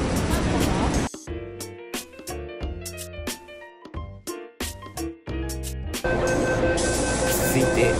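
Hong Kong metro train ride toward Central: steady rumbling roar of the moving carriage, then a quieter stop with chimes and announcement-like tones, before the loud running noise returns.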